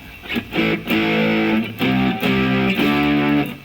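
Distorted electric guitar chords strummed in a rhythmic pattern through an EHX Overlord overdrive pedal with boost on, thick and saturated, loud and close with no talking.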